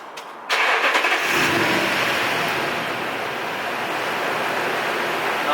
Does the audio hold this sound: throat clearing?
no